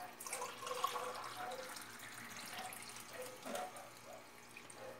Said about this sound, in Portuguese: Vou colocar um copo de água.